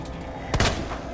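A single close, sharp gunshot from a handgun in the Resident Evil 2 Remake video game cracks out loudly in the middle of a quiet moment, with a brief ringing tail.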